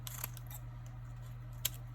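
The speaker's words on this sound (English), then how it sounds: "I'm going to take the scissors and cut it open, cut the little bag open" Scissors snip open a small plastic bag during junk-journal crafting, giving a few faint, quick clicks, mostly near the start and one near the end, over a steady low hum and no talk.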